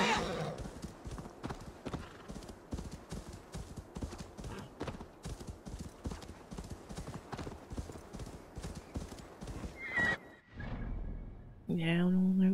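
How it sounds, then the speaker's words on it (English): Rapid hoofbeats of a horse galloping in Assassin's Creed Valhalla drum steadily for most of the stretch, then break off briefly before a whinny at the end. "I'm just getting my horse. I'll trample over you in the process"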